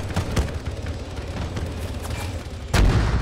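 Gunfire and artillery-like booms from a military video game operation, a low rumbling barrage with scattered thumps and a heavier close blast near the end, steady and fairly loud.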